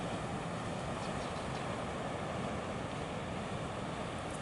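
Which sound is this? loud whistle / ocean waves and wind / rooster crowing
ocean waves and wind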